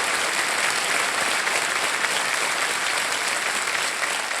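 Studio audience applause on a television quiz show set, a loud, even wash of clapping that holds steady from start to finish without talk.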